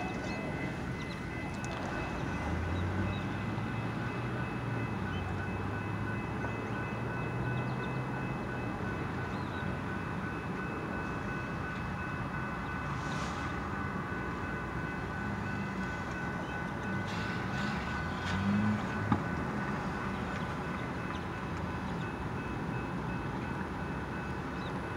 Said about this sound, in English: The train just made a dead stop.